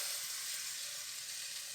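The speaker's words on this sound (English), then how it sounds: "now we go in with that kettle of water, and that's where the sauce comes in." Water from a kettle poured into a hot pan of onions for a pickled fish sauce sends up a steady, loud, broadband sizzle that holds evenly throughout, with no talking.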